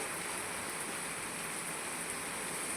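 Steady rain falls without pause during a downpour that has lasted three days, leaving water standing around a house; a dense, even hiss of drops fills the whole stretch with no voices.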